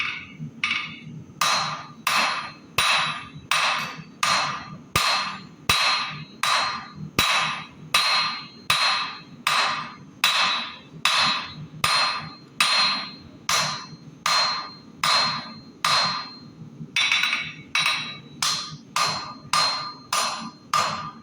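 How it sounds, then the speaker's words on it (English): A hammer forges a steel blade at a blacksmith meeting, ringing strikes in a steady, quick rhythm of about one per second, loud and close with brief pauses between runs. "now I'm just going to start kind of forging in the rest of the blade, getting that a bit more to dimension"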